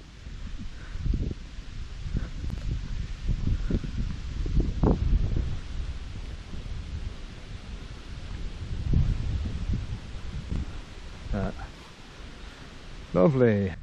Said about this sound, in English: It's getting a bit more windy now.